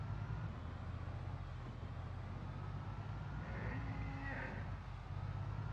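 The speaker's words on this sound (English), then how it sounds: "Is that a cow?" A cow moos in the zombie survival game Project Zomboid, a single drawn-out call rising in the middle of a steady low rumble of background game noise.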